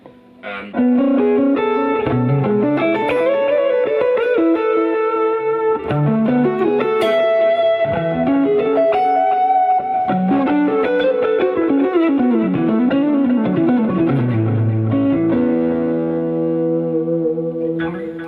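Distorted electric guitar through a Line 6 HX Stomp amp modeller plays a continuous riff with chords and melodic runs, processed with effects and reverb, loud and up front, no talking.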